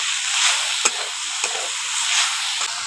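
Sugar being stirred into a sweet filling in a pan for vapa pitha, a bright continuous sizzle and hiss with a few sharp scraping knocks of the spoon, close and fairly loud, no voices.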